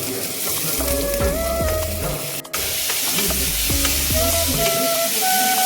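Maggi noodles being stirred with a wooden spoon in hot oil, a loud continuous sizzle with occasional scrapes, though steady tonal sounds run over much of it.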